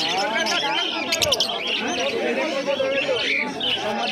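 Many caged pet birds, including cockatiels, green fischer's lovebirds and an albino, chirp and chatter densely and continuously at a busy bird market, with a voice talking over the steady chorus.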